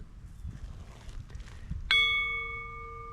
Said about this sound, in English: I thought it was a fountain, but it's actually just a bell.